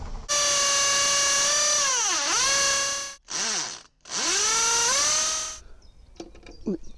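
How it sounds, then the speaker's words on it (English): A power drill whines loudly and steadily, its pitch dipping as it bites, then stops briefly and runs again; a short clatter follows at the end. "Drill the holes first and see how we get on"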